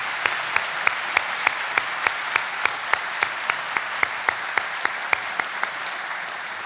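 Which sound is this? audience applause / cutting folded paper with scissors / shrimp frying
audience applause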